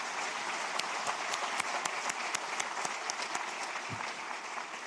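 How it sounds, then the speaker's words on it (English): An audience at a State of the City 2023 event applauds elected officials, a steady round of dense clapping sustained throughout at moderate loudness. "Let's give these elected officials a round of applause"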